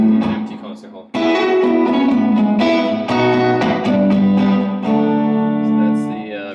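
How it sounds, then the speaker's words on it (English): An electric guitar is played through a pedalboard room reverb set to an empty concert hall, giving sustained distorted chords and notes with a spacious reverberant tail, loud and continuous after a brief quieter start. "that's the room reverb. I use that one the most."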